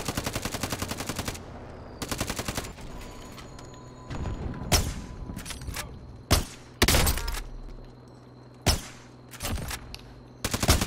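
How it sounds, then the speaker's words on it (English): Rifle fire in Warzone, loud close shots in rapid strings and single sharp cracks spread across the clip, with quieter gaps of background hum between them. "I sniped the one dude out of the passenger seat"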